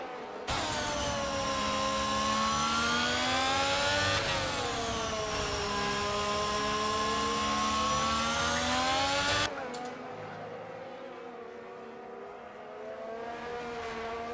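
Onboard a Ferrari Formula 1 car at Silverstone in a racing video game, a loud, high engine whine climbs through the gears with a sharp shift, then cuts to a quieter, lower drone as the car lifts off.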